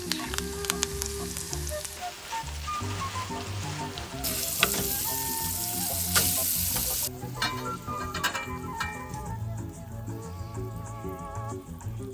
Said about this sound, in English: We'll start the saute process.